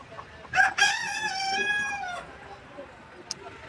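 A rooster crows once, loud and close, at a crowded poultry market selling chickens, ducks, pigeons and rabbits near Misr station in Cairo; the market's low murmur continues underneath and a sharp click follows.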